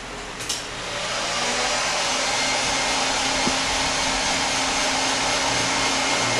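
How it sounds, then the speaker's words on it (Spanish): A hair dryer blows on a freshly washed photopolymer plate, switching on with a short rising whine and then holding a loud, constant airy roar with no talk. "Para secarlo utilizamos un secador de pelo o una pistola de calor."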